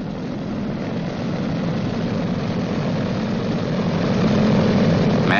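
Boeing B-29 Superfortress radial piston engines roar steadily during a ground run-up check, a loud, continuous droning hum that swells slightly in power, with no voices.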